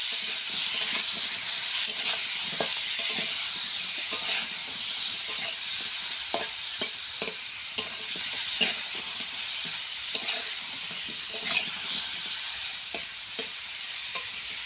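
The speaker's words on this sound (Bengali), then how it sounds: "আমগুলোকে আমি এখন ভালো করে ভেজে নেব।" Raw mango pieces frying in a pan with salt, turmeric and chili powder, a bright steady hiss of sizzling oil with scattered stirring ticks throughout.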